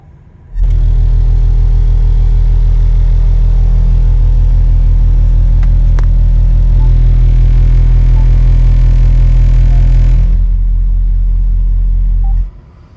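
A Recoil SW12 12-inch subwoofer facing the rear wall inside a truck cab plays a very loud, deep bass tone for about twelve seconds, stepping slightly in pitch partway through, then cuts off abruptly.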